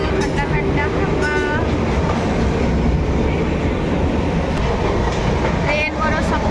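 A passenger train runs with a loud, continuous rumble and rattling clickety-clack of wheels on track, heard from on board, with occasional high squeals and faint voices in the background.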